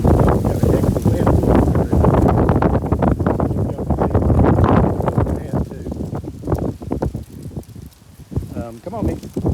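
Strong gusting wind buffets the microphone outdoors during a walk, a loud broadband roar that rises and falls throughout, easing slightly toward the end.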